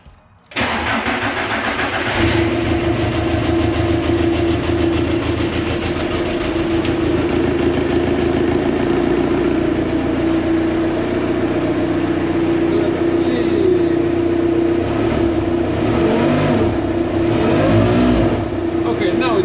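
A tractor engine starts up and runs loudly and steadily, rising and falling slightly in pitch as it is revved, close by and continuous throughout.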